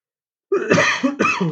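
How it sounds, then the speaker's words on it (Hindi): A burst of harsh coughing, two or three close coughs in quick succession after a moment of silence, loud and near. "थोड़ा सा खांसी हो गई है"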